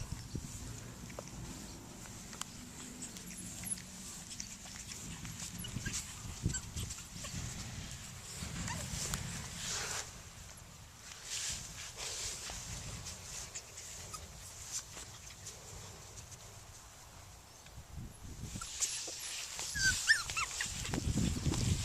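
Yorkiepoo puppies play on a farm with faint whimpers, scuffles and small pattering sounds against a noisy room background, quiet and somewhat distant with no clear talk.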